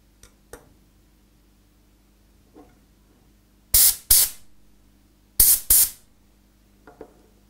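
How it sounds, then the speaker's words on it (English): Compressed air blows a filter screen clean from an area gripping system, four short loud hissing bursts in two pairs, with faint clicks between them in a quiet room. "Take out the filter screen and clean the screen with compressed air."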